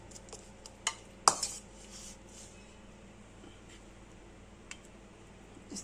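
Coconut macaroon mixture being worked with a spoon in a bowl, a handful of light clinks and scrapes of metal on the dish over quiet background, close and sparse, no talk.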